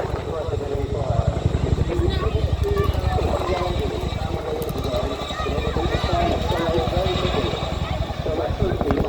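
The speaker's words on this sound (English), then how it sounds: "Work will now clear the landing site with a maximum performance takeoff." A military helicopter makes a maximum performance takeoff at an RAF Syerston airshow, building speed fast. Its rotor gives a dense, continuous, loud thudding roar that fills the whole stretch.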